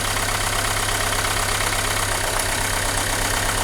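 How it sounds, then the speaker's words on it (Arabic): Close up, a Renault Megane 2 motor idles steadily, an unbroken mid-pitched drone with a faint regular throb and no voices over it. "شوفوا الموتور كيفاش يتحرك"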